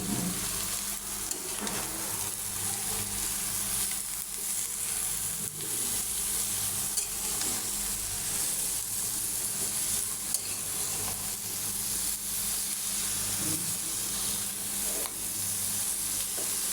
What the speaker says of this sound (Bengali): আমি বুড়ির সাথে মশলাটা ভালো করে মিশিয়ে নিলাম।